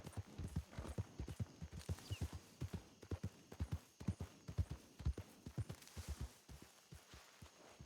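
Horse hooves clip-clop in a steady walking rhythm in Red Dead Redemption 2, crisp and close, continuing throughout with no talk over them.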